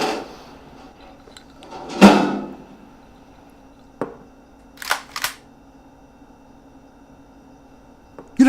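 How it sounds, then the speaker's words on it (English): A drawer used to store a gun is opened, giving a sharp wooden slide-and-thump near the start followed by a few lighter clicks and knocks in an otherwise quiet room. "This is the drawer where I keep my gun."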